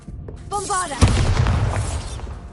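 A deep booming blast from the Bombarda spell erupts in Hogwarts Legacy, a sudden loud burst following a brief tonal whoosh, with the rumble lingering and slowly decaying.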